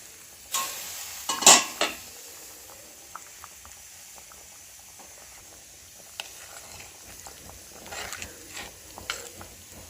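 A spoon stirs a quick curry of raw ground coconut in a pot: a few loud scraping strokes come early, then softer intermittent clinks and a gentle bubbling simmer, with no talk.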